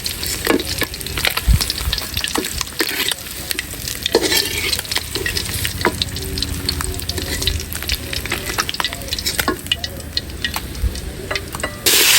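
Stinging catfish (shing) frying in an oil-filled pan for a bitter gourd curry, with a dense, steady sizzle and scattered scraping clinks from stirring running through the whole stretch. No one speaks.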